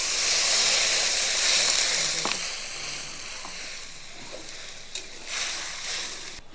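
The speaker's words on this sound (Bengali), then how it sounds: "দেখুন বন্ধুরা, জল ফুটে গেছে" Water with salt and turmeric heating in oil in a wok for a village-style fish curry, giving a loud hissing, bubbling rush that eases into a softer simmer with a few small pops.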